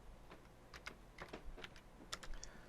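Rapid typing on a computer keyboard, a quick irregular run of light clicking keystrokes over a steady low background hum, with no talking.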